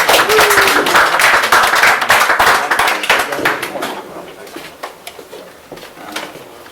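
Close, crisp clapping from a small pub audience at a poetry night in a Limerick bar, strong at first and then thinning to scattered claps, with a voice briefly audible.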